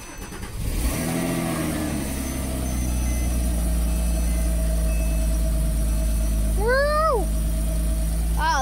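A Porsche engine cranks and catches after a couple of months in winter storage, settling into a loud, steady idle close by, then rising in a few quick revs near the end.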